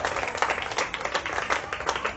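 A church congregation gives a brief round of applause, dense and steady, with no voice above it.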